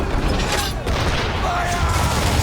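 Ship cannons fire in an Assassin's Creed 3 naval battle, a loud close cannonade of overlapping booms over creaking mechanisms, with shouted crew voices in the mix.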